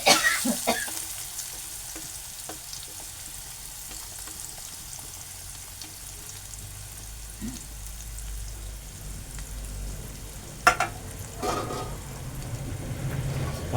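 Onion and curry leaves sauté in a pan for a guar and potato dish, with a soft steady sizzle, occasional bursts of louder crackle and a few stirring clinks.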